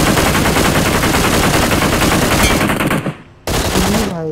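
Rapid automatic gunfire from a BGMI match rattles continuously and loudly for about three seconds, cuts out briefly, then resumes in a dense burst.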